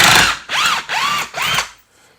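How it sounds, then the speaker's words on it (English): A power drill backs a screw out of a wall light sconce, running in three short whirring bursts with brief pauses between them, close and fairly loud, then falling quiet at the end. "Take out this screw here."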